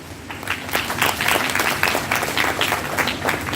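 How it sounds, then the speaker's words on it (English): Loud applause from a conference audience at a financial markets event, sustained dense clapping throughout with no talk over it. "So I think this requires our loud applause."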